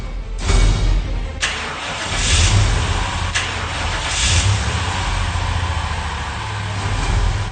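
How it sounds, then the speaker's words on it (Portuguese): A truck engine cranks and sputters but fails to start, a radio drama sound effect, with a steady engine rumble and repeated starter bursts running through the whole stretch. "ele não consegue nem ligar o caminhão"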